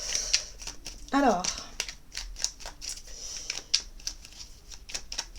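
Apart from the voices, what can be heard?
shuffling AstroZen oracle cards for a reading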